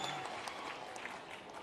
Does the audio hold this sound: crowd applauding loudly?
yes